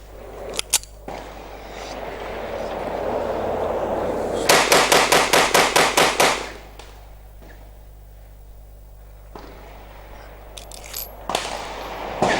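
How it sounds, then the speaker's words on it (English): Rapid string of about nine sharp 9mm shots from a Colt 1911 pistol in quick succession, loud and close, with a few isolated clicks and clatters of handling before and after in an outdoor range setting. "We'll put them through rapid fire and then we'll just show you just how reliable this 1911 action really is."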